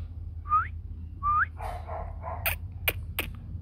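Two dogs, a fluffy fiery-coated chow-type and a bobtail, give a couple of high whining yips, then a run of short, sharp barks close by.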